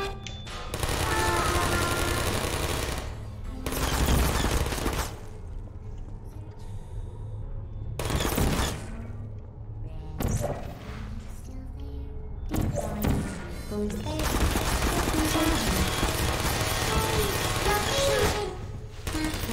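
Turret gunfire in the video game Portal comes in loud repeated bursts of rapid shots separated by quieter gaps, with a voice speaking between them.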